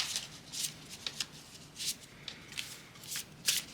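Quantum oracle cards being shuffled by hand in a quiet room, a series of soft papery riffles and slides in irregular bursts, close and fairly faint, with no talking.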